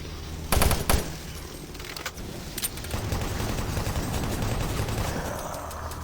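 Chain gun fire in the video game Doom 3, a loud rapid burst of shots up front followed by a few scattered single blasts, then a lingering echoing rumble.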